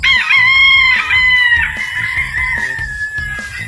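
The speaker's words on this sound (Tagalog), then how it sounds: "Napakakaming manok mga boss" On a farm with many derby chickens, a rooster crows loudly and close, with a long drawn-out call, while hens cluck in short repeated bursts underneath.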